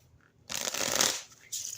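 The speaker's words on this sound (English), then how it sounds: "Shuffle these real quick, too." A deck of cards is riffle shuffled up close, a loud fluttering burst followed by a short second riffle, with no talking.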